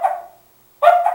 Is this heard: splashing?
no